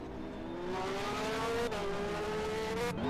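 Race cars in a racing video game droning along at steady speed, a sustained engine whine that shifts slightly in pitch, loud and continuous with no talk.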